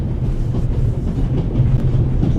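Steady rumbling of a moving passenger train in The Raven: Legacy of a Master Thief, a continuous low rattle and rolling clatter filling the whole stretch with no speech.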